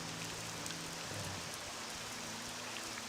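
Steady rain hisses through a storm in the video game Morrowind, a continuous even wash of falling water, with low game tones underneath and no talking.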